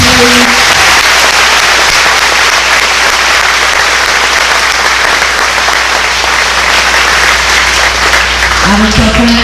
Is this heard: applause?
yes